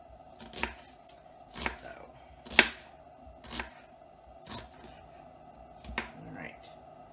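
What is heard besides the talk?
chopping red onions with a knife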